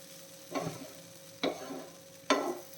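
A spoon scrapes through a pan of wheat rava upma mixed with grated coconut, three distinct stirring strokes spaced about a second apart over a faint background hiss.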